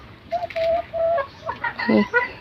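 Chickens cluck and call nearby, a few drawn-out tones followed by quicker, choppy clucks, loud and close.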